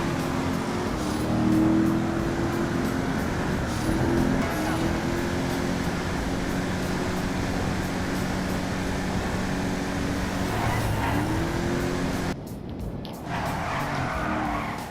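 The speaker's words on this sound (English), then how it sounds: "I'm going to shut up here so we can hear that exhaust note." A topless Windsor car drives along, its engine exhaust note steady and fairly loud with tire noise throughout, the tone shifting briefly near the end.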